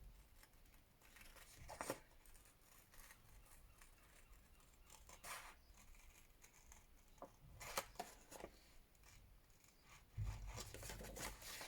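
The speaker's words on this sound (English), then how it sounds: "I want to fussy cut this boot" Small scissors fussy-cutting around a paper boot, producing soft, intermittent snips and rasping paper rubs, quiet and close with irregular pauses and a louder rustle near the end.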